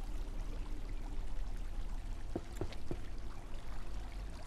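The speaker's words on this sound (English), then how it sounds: "There's a water leakage over here." Water leaking and pouring in the video game Abiotic Factor, a steady faint stream of splashing that continues throughout, with a few brief drips or plinks near the middle.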